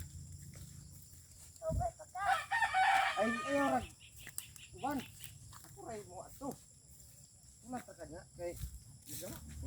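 A neighbour's rooster crows once, loud and near, standing out from the background, while people talk and laugh through the rest of the moment.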